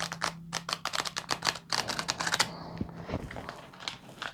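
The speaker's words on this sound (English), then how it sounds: "I'm going to do one more fan shuffle of this" A deck of tarot cards is fan shuffled up close, giving a quick ripple of crisp card flicks followed by softer settling riffles and light handling noises.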